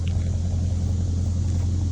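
A truck engine idles as a steady low rumble, constant and fairly close, with no talk.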